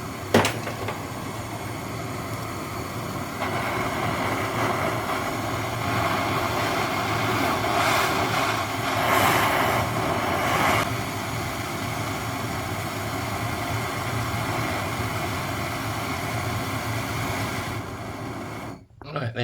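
A Bernzomatic blowtorch flame heating a thick 50 Bin Lira coin for ring making, a steady roaring hiss that swells louder in the middle of the clip and cuts off near the end.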